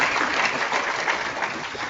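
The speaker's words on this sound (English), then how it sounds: "I think they deserve your applause." Audience applause at a university convocation for three medal-winning students, a dense, steady wash of clapping that holds evenly throughout without any voices over it.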